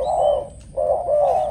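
A large Malaysian decoy dove gives two deep, resonant coos, close and clear, separated by a brief pause.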